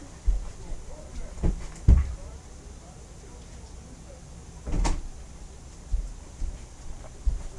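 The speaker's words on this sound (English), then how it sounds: "I just had to shut that door." A door in a home is shut, giving a few soft thumps and knocks spread through a quiet room, with low background noise between them.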